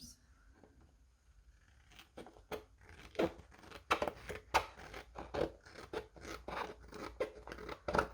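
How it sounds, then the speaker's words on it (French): Scissors snip through paper along a traced line for a scrapbook piece, a series of close, crisp cuts at an uneven pace, quiet and with no talk. "vous pouvez venir découper sur l'intérieur du trait"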